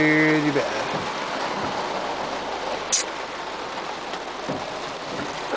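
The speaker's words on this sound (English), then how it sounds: "I got rained out." Heavy rain pours steadily on a surface outdoors, a dense continuous hiss with scattered louder drops, after a brief tonal sound at the start.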